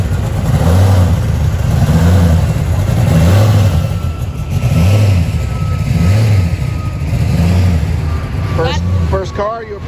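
A 1955 Chevy idles with a loud, rhythmic, lumpy engine pulse at the 2024 Hot Wheels Legends Tour car show in Miami, the beat repeating steadily, with a backup beeper and people talking in the background.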